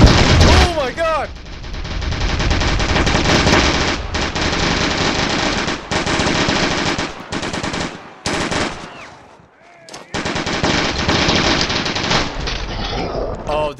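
Rapid bursts of automatic gunfire in Fallout 4 crackle almost continuously and loudly, with short gaps between volleys and a voice shouting over the shooting.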